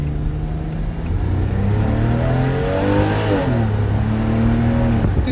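A 2001 Porsche 911 Carrera 4 (996) flat-six engine revs up hard under full throttle, pitch climbing steadily through the gears with a brief shift dip, loud and close from inside the car.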